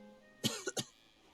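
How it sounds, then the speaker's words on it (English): A person coughs three times at close range, one rough burst followed by two shorter ones, against a quiet background. "Excuse me, I need to cough."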